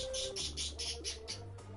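A series of rhythmic high chirps repeats about six times, moderately faint, over a low steady background hum with a brief tonal whistle.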